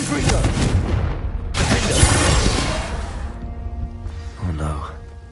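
Confringo fire curse explosion in a Harry Potter video game: two loud, broad blasts with rumbling tails follow each other, and a short spoken voice comes in near the end.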